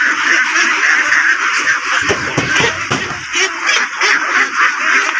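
Many ducks and geese at a poultry market where birds are being loaded, filling the air with an unbroken din of close quacks and honks, plus a few brief thumps of handling midway.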